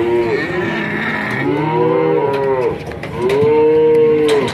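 Several cattle moo loudly and close by at a livestock market selling calves of a European-type beef breed, the long, drawn-out calls overlapping and following one another with no talk.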